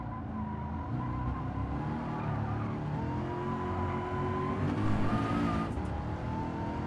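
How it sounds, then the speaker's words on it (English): Racing car in Gran Turismo 7 braking hard, engine note dropping through steady tones with tyre noise, a continuous close drone for several seconds. "Braking on that shadow, giving the car all of the brakes"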